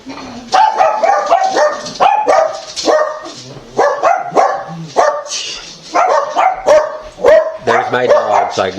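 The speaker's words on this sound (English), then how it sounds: "You know we got dogs and they like to bark." Several household dogs bark repeatedly and loudly, close by, in a steady run of overlapping barks throughout.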